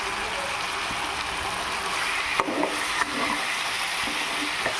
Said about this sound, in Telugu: బాగా కలుపుకున్నాం.